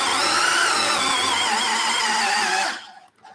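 Cordless 10.8-volt power drill boring steadily into a wooden block at slow speed, a loud close whine held for nearly three seconds before cutting off into quiet.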